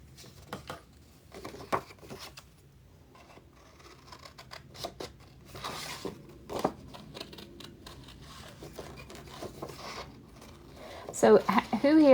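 Scissors cutting out a paper fairy for a Sleeping Beauty diorama page: a quiet series of crisp snips and paper rustles spaced irregularly, with a voice talking now and then over them.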